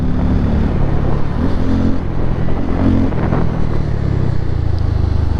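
A Bajaj Pulsar N250 motorcycle, a 164 kg bike, rides through city traffic with its engine droning steadily up close and swelling in a few brief revs, under a constant rush of wind and road noise.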